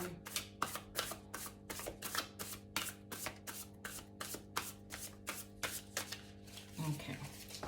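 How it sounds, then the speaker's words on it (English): Tarot cards being shuffled in a steady run of quick riffling bursts, soft and close, repeating rhythmically with a short pause near the end. "Not wanting to shuffle that way anymore, so we will do one last shuffle and divide the deck."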